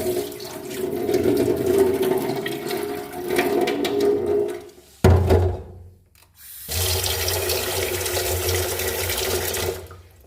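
Water sloshes and pours as soaked ragi grains are washed by hand, a continuous watery rush that breaks off briefly midway, then resumes steadily.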